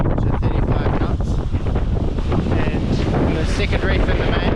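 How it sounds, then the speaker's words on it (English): Strong wind of 25 to 35 knots buffets a reefed sailboat charging across the open Pacific, a loud continuous roar of gusts and microphone buffeting mixed with rushing water. "it's pretty windy as predicted. It's sort of 25 to 35 knots"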